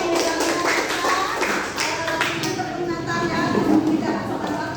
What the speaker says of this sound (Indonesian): Tepuk 5. Tepuk 5.